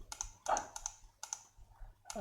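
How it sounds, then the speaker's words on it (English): Laptop or desktop keyboard typing while editing React code, a sparse run of light, crisp key clicks in small clusters, close but quiet, without talking. "I will type"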